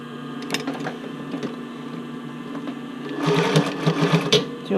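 A sewing machine back stitches elastic onto a sports bra with a steady mechanical whir that grows louder and busier near the end. No voices are heard.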